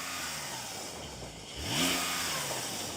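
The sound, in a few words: Porsche 911 Turbo S exhaust revving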